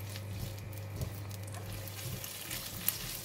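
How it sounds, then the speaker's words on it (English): Squid stir-fried with tom yum paste and kaffir lime leaves gives a soft, steady patter and light sizzle over a low background hum, with faint clicks of stirring. "We want to stir them together."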